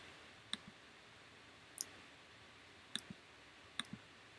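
Computer mouse clicks: four sharp, isolated clicks spaced about a second apart, a couple doubled, close and crisp over a quiet background hiss.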